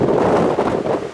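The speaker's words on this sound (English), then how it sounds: "It's a bit windy now." Strong wind buffets a microphone outdoors at the Blackpool attractions in February, a loud, continuous low rumble that surges and dips with the gusts.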